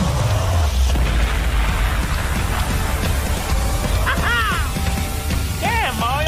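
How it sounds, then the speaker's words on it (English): A bowling ball crashes through a huge rack of 100 pins in an animated Mario bowling game, a dense, continuous rumble and clatter of toppling pins with brief squeaky cartoon voices over it. "I'm about to shoot all these pins down."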